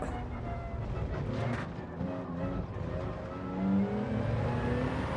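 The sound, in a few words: Toyota Supra race car driving in video game Gran Turismo 7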